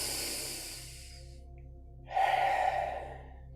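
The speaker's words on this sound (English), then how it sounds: "And take a deep breath in." A single deep inhalation during a guided breathing exercise, a strong breathy rush drawn in for about a second, following a quiet stretch over a low steady hum.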